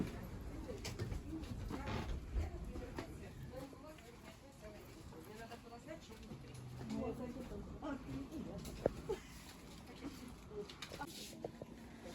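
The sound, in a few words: pigeons cooing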